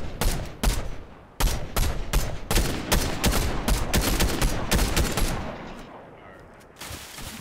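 Rapid bursts of automatic gunfire in Fortnite crackle repeatedly and loudly over several seconds, thinning out toward the end, with faint voices underneath.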